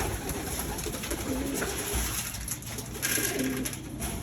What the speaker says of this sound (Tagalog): Kaya may mga kalapati siya rito.